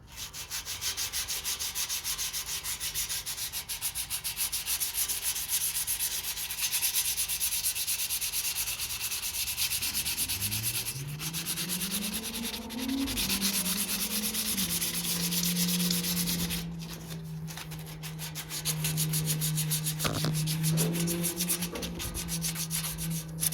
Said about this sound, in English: I just kind of sand it so it's all breaking